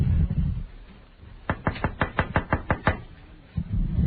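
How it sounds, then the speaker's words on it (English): A quick burst of about nine sharp, evenly spaced knocks on a door, loud and close, with low murmuring before and after. "It's that knock at the door."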